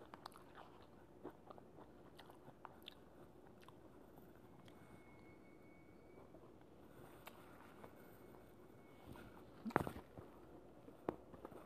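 Someone bites and chews lemon bourbon chicken close up, with soft wet mastication and a few sharper crunchy bites over a quiet background hiss.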